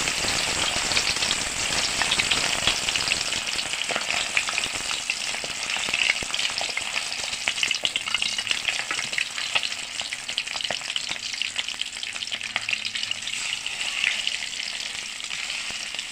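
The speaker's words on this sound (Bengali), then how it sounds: "ডিপ ফ্রাই করার জন্য মাছগুলো দিয়ে দিয়েছি" Fish deep-frying in about a cup of hot oil in a pan gives a dense, continuous crackling sizzle, steady and fairly close for the whole stretch, with no talking.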